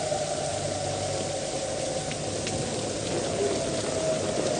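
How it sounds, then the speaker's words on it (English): Heavy rain pours steadily during a North Texas tornado storm, a dense continuous hiss with gusting wind and a faint distant siren tone beneath, unbroken throughout. "just lots of rain, lots of wind"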